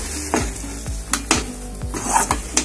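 A spoon stirs puran filling in a pan over a gas flame. Rhythmic scraping strokes sound over a soft, continuous sizzle, with an occasional light clink of metal.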